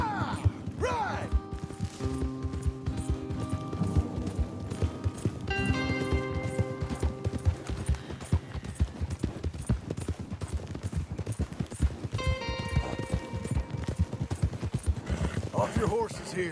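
Horses galloping in Red Dead Redemption 2, close hoof clip-clop running under game dialogue, with a horse whinny and music swells between the voices.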